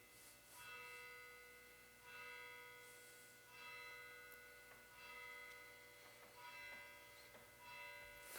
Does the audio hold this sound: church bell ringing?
yes